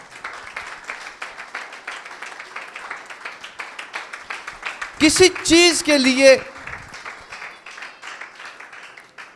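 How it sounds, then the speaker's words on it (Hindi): A church congregation claps loudly at a Sunday meeting, a dense burst of applause lasting about two seconds mid-clip amid the hall's sustained murmur, with a preacher speaking before and after. "यीशु के लिए जोरदार तालियां बजाएं।"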